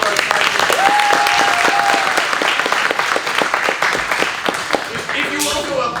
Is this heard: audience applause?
yes